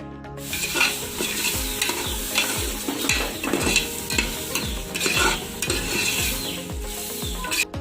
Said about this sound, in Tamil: இப்போ இது நல்லா எண்ணெய் பிரிகிற அளவுக்கு வதக்கி விட்டுக்கலாம்.